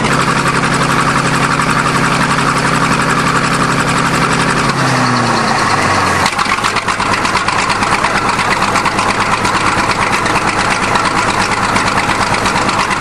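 A 1953 International bulldozer's diesel engine runs loud and close with a constant rough idle; a few seconds in, its tone shifts and drops lower as it switches over from starting mode, then keeps chugging evenly.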